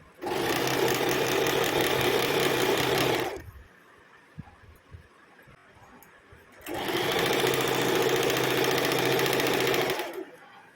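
An electric sewing machine stitches a kurti in two loud, steady bursts of rapid mechanical whirring, separated by a few seconds of quiet with small handling clicks.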